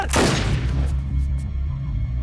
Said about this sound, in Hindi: उसने गोली चला दी।